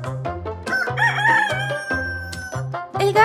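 A rooster crows loudly with a long, rising call, over a steady background tone and some short clucking sounds.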